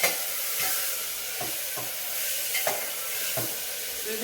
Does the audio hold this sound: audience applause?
no